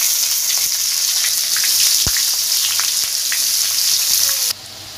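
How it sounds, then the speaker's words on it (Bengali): Whole cumin seeds tempering in hot oil for a mustard cashew prawn dish, a loud close crackling sizzle with sharp pops and one knock, dropping abruptly quieter near the end. "এবার ওই তেলের মধ্যেই গোটা জিরে ছোটো চামচের হাফ চামচ ফোড়ন দিয়ে"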